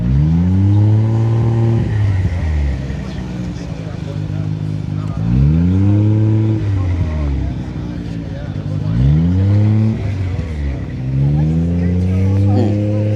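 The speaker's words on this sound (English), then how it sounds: "V-Spec, that's the car right there. I'm just gonna follow him." A Nissan Skyline R34 V-Spec on 30-day tags moving at a cars and coffee meet, its engine revving up and easing off in three rising sweeps, loud and close.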